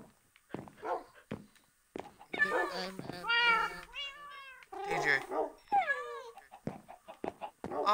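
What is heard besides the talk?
dogs whining in a video game (Minecraft)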